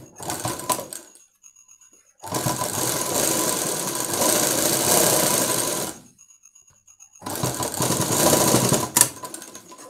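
A sewing machine stitches a boat neck full blouse for a three-year-old girl. It runs in three loud, steady bursts separated by short silent pauses, with no talking.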